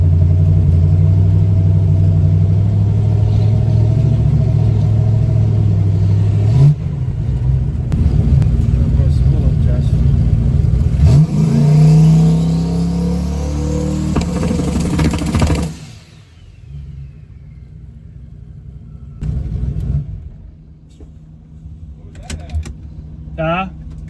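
A race car engine rumbles loudly at the pits after a transmission repair, revving and shifting before dropping off to a quieter idle, with people talking nearby.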